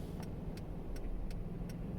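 A car with a broken exhaust rumbles low and steadily nearby, a deep throbbing drone with a faint regular ticking repeating over it.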